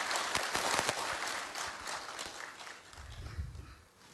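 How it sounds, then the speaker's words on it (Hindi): Audience applause at an outdoor government event in Madhya Pradesh welcoming a state minister: a dense, steady wash of many hands clapping from a crowd, strongest at the start and gradually thinning, with low rumble near the end. "ताली बजा के मंत्री जी का स्वागत कीजिए सर"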